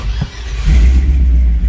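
A 1959 Chevrolet Apache restomod with a freshly rebuilt, fuel-injected engine runs up close, a loud, deep rumble that climbs into a sustained rev and holds strong.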